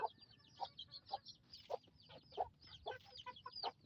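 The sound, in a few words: Darag native chickens clucking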